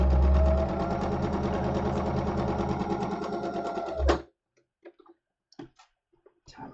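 A sewing machine stitches a quarter-inch seam allowance on a summer tunic with a fast, steady, close-up whir of needle clicks for about four seconds, then stops abruptly, leaving a few faint scattered clicks and handling noises.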